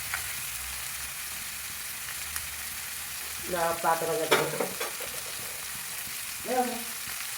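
Onions and chicken fry in a pot with a steady low sizzle, then a few clanking pot and lid sounds in the second half while a voice speaks briefly.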